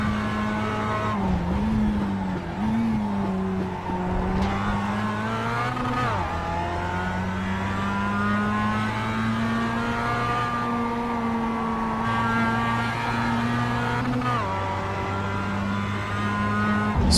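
Mazda race cars lapping Laguna Seca in the iRacing sim, a steady loud engine drone holding high revs throughout, with pitch dips and rises as gears shift around corners and cars run close together.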